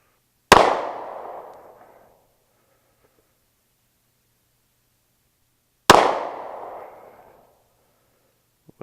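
A 9mm M&P Shield pistol fired at targets: two loud, sharp reports about five seconds apart, each with a ringing decay, and a third shot just beginning at the very end.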